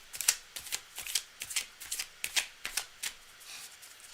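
Cards are riffle-shuffled again and again, quick crisp papery bursts in a steady rhythm, close up with no talking.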